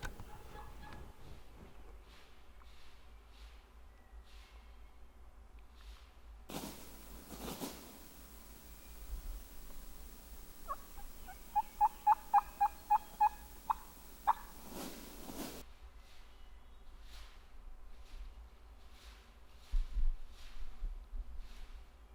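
Wild turkey in Virginia mountain woods gobbles in a quick series of short, faint, distant bursts, with soft background rustle and a louder brush noise before and after.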